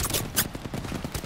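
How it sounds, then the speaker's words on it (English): Gunfire in the video game Apex Legends, a rapid stutter of automatic shots crackling continuously for a second or so, fairly loud and close. "Getting shot at."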